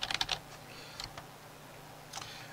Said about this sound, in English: you can type in console commands here